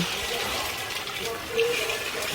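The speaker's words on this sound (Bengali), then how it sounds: "এখন এই রসের ভিতরে আমি খুরমাগুলো ঢেলে নিচ্ছি" Fried khurma sweets tipped into warm sugar syrup in a pan, a brief wet pouring and splashing rush that swells near the end, close and fairly loud.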